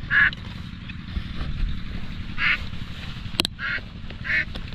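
Ducks being herded outdoors give out several loud, nasal quacks in short separate bursts over a continuous low rumble of background noise, with one sharp click partway through.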